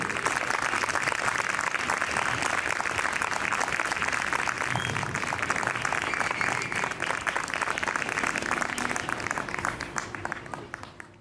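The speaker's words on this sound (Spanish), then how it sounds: "les voy a pedir un fuertísimo aplauso con ovación." An audience at an inaugural psychoanalysis class in front of a planetarium gives loud, sustained applause and an ovation, dense clapping filling the whole stretch before tapering slightly at the end.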